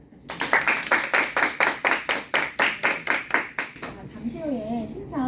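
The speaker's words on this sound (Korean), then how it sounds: "양팀 수고해준 모든 팀에게 큰 박수" Audience at a middle school debate final claps in a loud, steady rhythm of about a dozen even beats, close and unison-like, then the claps fade as a voice begins speaking.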